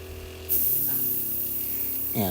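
An airbrush sprays paint onto a Warhammer miniature, starting with a sudden steady hiss that runs for nearly two seconds close by over a low electrical hum.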